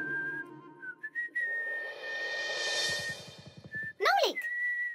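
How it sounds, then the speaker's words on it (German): A cartoon character whistles a melodic tune with sustained and gliding notes, joined midway by a brief rapid rattling patter and a sharp sliding whistle burst near the end. "Ich pfeife nur ein Lied."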